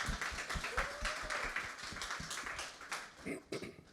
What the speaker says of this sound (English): So round of applause for the panel, please, and then we'll make a start.